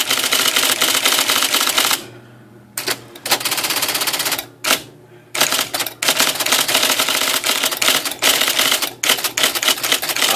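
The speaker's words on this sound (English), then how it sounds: "I would type at least a line" Rapid, sharp keystrokes hammer from an IBM Selectric III electric typewriter up close, coming in dense bursts with a few brief pauses and a steady motor hum underneath.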